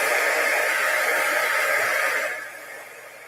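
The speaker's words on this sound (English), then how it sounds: "we are going to hit this with our heat tool for just a second" A handheld craft heat tool blows hot air to dry paint, a steady loud whooshing roar that holds for a couple of seconds and then drops away as it is switched off.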